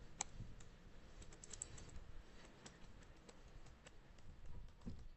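Keys clatter steadily on a computer keyboard as someone types notes about Python dictionaries, with quick irregular clicks over a low background hum and no talking.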